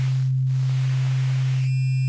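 A steady low sine tone processed by a jitter rate reducer effect on a Vengeance Avenger synth, holding constant under a hiss of noisy digital grit that shifts and briefly drops away.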